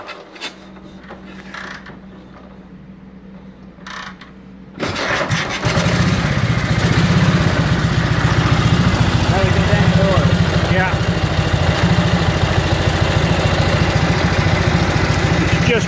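A 1927 BSA S27 500cc motorcycle engine is kicked over and catches, then idles with a loud, rapid, steady thumping after a few seconds of quieter mechanical shuffling.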